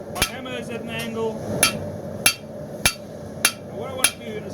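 Steady hammer blows on a steel knife edge being forged from round bar stock, each strike a sharp metallic ring spaced roughly every half second to second, close and clear over faint room noise.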